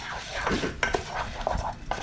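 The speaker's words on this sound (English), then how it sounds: "Mix up your rice, make sure all the granules are coming into contact with the oil." Rice stirred in oil in a cooking pan for Mexican rice, with a spoon scraping and clinking against the pan in quick, close, continuous strokes and a light sizzle underneath.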